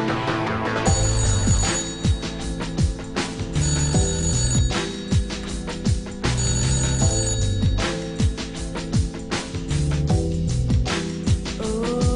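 A telephone rings again and again in loud, rhythmic bursts of bright bell tones, repeating for several seconds with no voices over it.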